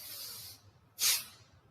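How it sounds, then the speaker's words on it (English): A short, sharp forceful exhale through the nose during a yoga breathing exercise, a brief hissing burst heard close after a softer airy breath. "You're going to breathe out forcefully, bringing the hands back to its original starting posture. This breathe out is going to be a little forceful"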